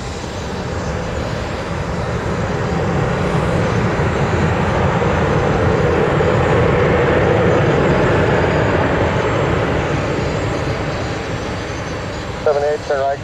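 Airbus A320 airliner at Tampa airport, a broad steady jet engine roar that swells and fades over several seconds, with brief radio-like voice chirps near the end.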